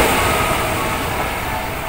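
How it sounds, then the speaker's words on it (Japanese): Kyoto Municipal Subway train passing close by on a line through Nara, a steady loud broadband rumble and rail roar that holds throughout without a break. "お、これはまた平常休憩でも見ましたけど京都の地下鉄ですね。"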